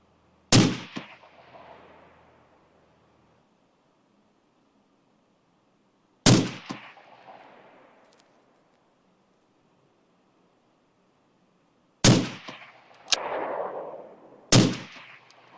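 Four sharp, loud shots from a Sig Sauer Cross .308 rifle, spaced unevenly with a long pause after the first two and two closer together at the end, each cracking out and then ringing off into the open air.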